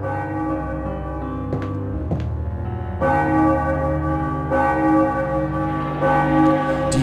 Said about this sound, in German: Doch die Glocke schlägt